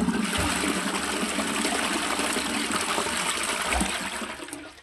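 A toilet flushes with a loud, continuous rush of water that holds steady, then begins to fade at the end.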